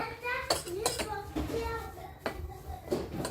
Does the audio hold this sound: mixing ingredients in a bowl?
yes